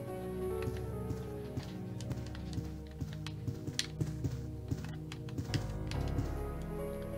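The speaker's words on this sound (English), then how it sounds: "Oh, it's an old typewriter." An old typewriter in the video game Resident Evil 2 clatters through a rapid series of key strikes, with close, crisp clicks in an irregular rhythm over a soft, steady background.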